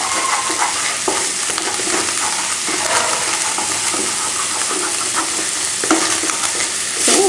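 Egg is scrambled and fried with pepper in a pan for kothu roti, a loud, close sizzle with continuous stirring and scraping throughout.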